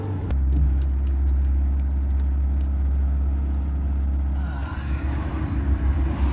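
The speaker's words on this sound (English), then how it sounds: "we are driving in an Oldtimer" Inside a vintage oldtimer car on the road, a loud, steady low engine rumble and drone fills the cabin, with a rougher, shifting noise creeping in near the end.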